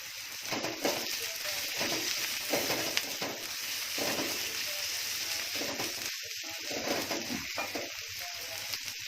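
Sliced shallots sizzle and crackle steadily in hot oil in a pan, a continuous close frying hiss with occasional stirring scrapes and no talk.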